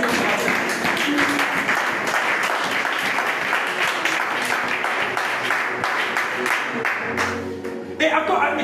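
Loud, steady applause and cheering from a large church congregation, dense clapping that fills the whole stretch and swells briefly near the end.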